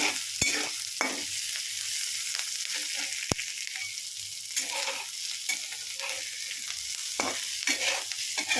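Onions, curry leaves, green chilies and tomato fry in a pan for a tomato curry, a continuous hissing sizzle punctuated by scraping stir strokes and occasional sharp clicks, with no talk.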